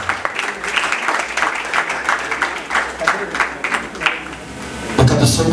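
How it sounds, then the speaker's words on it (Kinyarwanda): Wedding guests in a church applaud steadily, the clapping continuing for several seconds while someone talks over it, then fading near the end. "Ni mwiza cyane tumukomera amashyi tumushaka."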